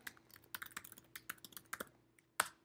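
Rapid typing on a computer keyboard, with a quick run of clicky keystrokes followed by a pause and one sharper final key press, close and isolated with no voices.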